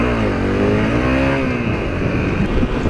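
A Porsche car accelerates hard past a motorbike in traffic, its engine rising in pitch as it revs and closes in, loud and continuous against steady road and wind noise.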